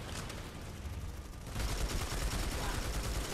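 Dense, continuous gunfire in Planetside 2 on PS4, a steady roar of overlapping rapid shots that grows louder halfway through, with faint speech underneath.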